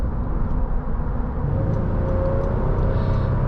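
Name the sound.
2023 Honda Pilot TrailSport driving on highway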